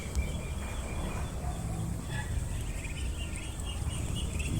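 Young ducklings on a duck farm give faint, scattered peeps and chirps over a steady wash of rustling and background noise, with no clear talk.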